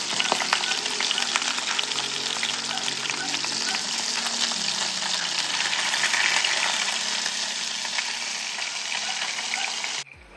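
A beef burger patty fries in a hot pan with a loud, steady sizzle and crackle that holds constant throughout, then cuts off abruptly near the end.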